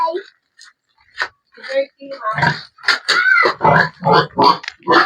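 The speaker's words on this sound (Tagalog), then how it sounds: "We're going to feed Mingay, the pig." A pig named Mingay is being fed at home and grunts in short bursts, mixed in with people talking nearby.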